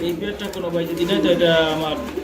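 Lahori pigeons coo softly and repeatedly nearby, a low rolling warble over a faint background murmur.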